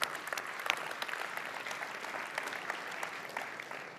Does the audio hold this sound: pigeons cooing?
no